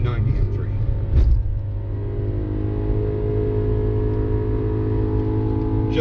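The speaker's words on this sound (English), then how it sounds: "just listen to that engine" A deep, steady engine rumble with a rich harmonic drone from a 2011 BMW E90 M3, idling smoothly and close by.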